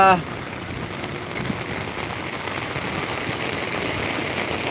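Heavy rain pours steadily beside a flooded river, a dense even hiss of drops on surfaces that holds for the whole stretch, opening with a brief burst of voice.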